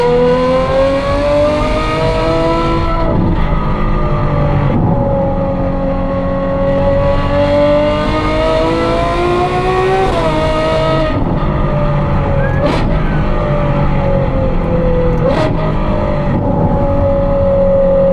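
Ferrari 812 fitted with a Novitec N-Largo exhaust, a big V12 GT car, revving loudly and close up, its engine note rising and falling through several sustained pulls with sharp blips in between.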